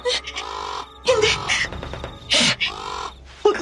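A crow gives several loud, harsh caws in separate bursts, heard as a horror-drama effect in a rural village setting.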